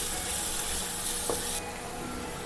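Chopped green chillies tossed into a hot pan for Manavatti chicken, a close, steady sizzle and crackle with a brief stirring clink partway through before the hiss settles slightly quieter.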